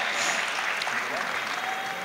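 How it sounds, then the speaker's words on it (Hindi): A mushaira crowd at Anwarul Uloom College bursts into brief, steady applause for a family, the clapping dense and moderately loud, with a voice speaking over it. "एक बार ज़ोरदार तालियां इस पूरे ख़ानदान के लिए।"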